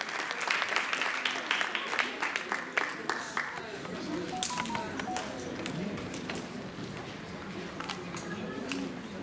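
A crowd at a school end-of-year play claps in a dense patter of hand slaps, with voices and cheering mixed in beneath, fairly close and continuing throughout.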